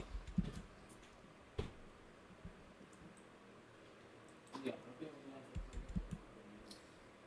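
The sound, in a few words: computer keyboard typing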